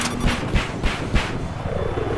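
Helicopter in the video game Battlefield on the Caspian Border map, with a rhythmic rotor thump pulsing at a steady beat and a low engine drone, moderately loud.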